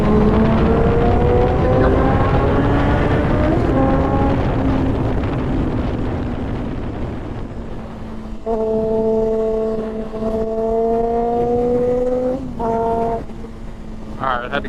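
A Kawasaki ZX-4RR 400cc inline-four sport bike accelerates onto an interstate, its engine holding a steady rising whine. The tone shifts briefly near the middle, and heavy wind buffeting covers the whole stretch.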